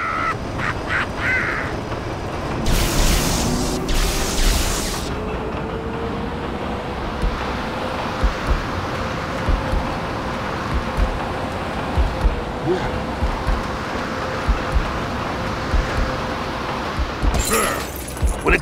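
Wind in Lego DC Super Villains: a steady, broad rushing roar fills the whole stretch, with faint whistling and occasional brief louder gusts or clatters on top.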